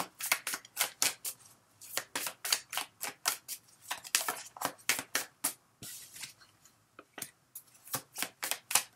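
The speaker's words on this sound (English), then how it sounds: "So what I'm doing is I'm shuffling till one card falls out." Someone shuffles a deck of oracle cards close by in a quiet room, making repeated crisp riffling bursts in an uneven rhythm with brief pauses between.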